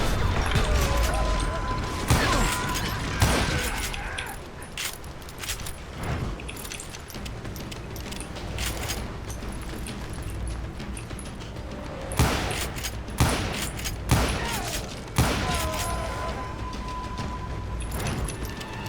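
Gunfire in the Western shooter Call of Juarez: Gunslinger, with clusters of loud gunshots and impacts breaking out in bursts over continuous game ambience.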